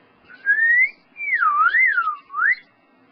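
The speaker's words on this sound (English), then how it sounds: "There, I'll whistle a little bit." A person whistles a short melody in a classroom, one rising note followed by a longer wavering phrase and a final upward note, clear and close with no talk.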